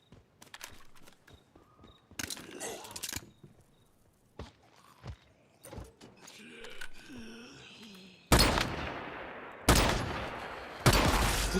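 Pistol fire in the video game Once Human: a few loud, sharp shots ring out near the end, each with a short decaying tail, after scattered footsteps, clicks and light mechanical sounds.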